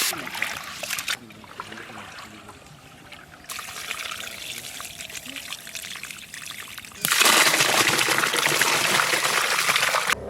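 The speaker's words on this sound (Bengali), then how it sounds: "চাল ভালো করে ধুয়ে নেব।" Rice being washed in water, with continuous trickling and pouring of water that grows louder and fuller toward the end, close by and steady.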